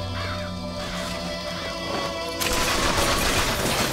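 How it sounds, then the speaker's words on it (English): Murderous crows from the BioShock Infinite video game caw repeatedly over a dense game soundtrack, then a louder burst of crashing, gunfire-like noise takes over midway. "Murderous crows."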